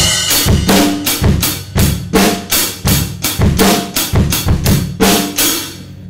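A drum kit plays a beat from a song, with heavy bass drum hits in a steady pattern under loud, washy hi-hat and cymbal crashes, close and punchy with no talking.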